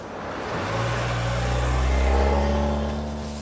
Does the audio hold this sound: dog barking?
no